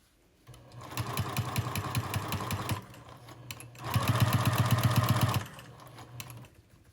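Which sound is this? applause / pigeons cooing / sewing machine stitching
sewing machine stitching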